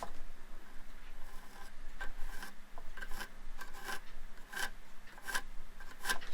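A hand file rasps along a workpiece edge to chamfer it, with repeated close, scratchy strokes in an irregular rhythm, with no talk over it.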